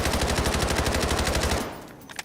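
A KC17 rifle firing a rapid, loud, evenly spaced automatic burst in the video game Delta Force, cutting off after about a second and a half with a few scattered trailing shots.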